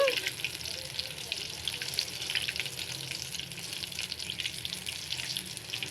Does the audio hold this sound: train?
no